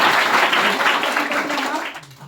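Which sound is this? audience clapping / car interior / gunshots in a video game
audience clapping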